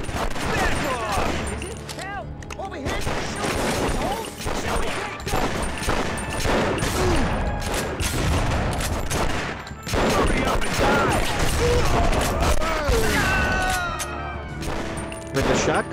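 Gunfire in The Punisher on PS2, repeated bursts of shots and impacts in rapid volleys throughout, loud and close with game sounds around them.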